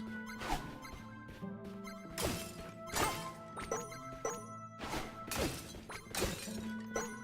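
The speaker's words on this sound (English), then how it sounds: "But I will keep smashing plant pots" Plant pots shattering one after another in the video game UnderMine 2, a run of sharp crashing smashes with ringing debris, about six or seven hits at uneven intervals over steady game music.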